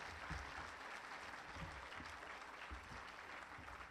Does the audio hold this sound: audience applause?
yes